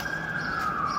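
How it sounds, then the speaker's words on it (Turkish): An ambulance or police car siren sounds as one steady, loud wailing tone over a background hum, heard alone for about a second. "Ambulans mı polis arabası mı? Ne sesi o?"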